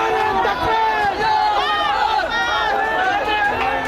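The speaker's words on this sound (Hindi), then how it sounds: "और धार्मिक नारे लगाने लगे" Loud crowd of many voices chanting religious slogans in unison while surrounding a police team, rising and falling in close, continuous shouted waves.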